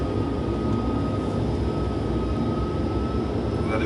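Steady, loud airliner engine roar during takeoff climb, a continuous broadband rumble with a faint whine, no talk over it.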